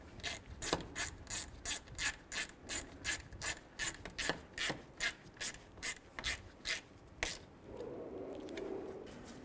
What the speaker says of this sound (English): Put the bolt back in and snug it down.